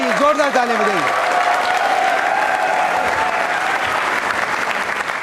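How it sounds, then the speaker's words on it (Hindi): Loud, continuous applause from a studio audience on a televised Rajasthan panel show, with a speaking voice briefly heard over it at the start. "जोरदार तालियां बजाइए, जोरदार तालियां बजाइए"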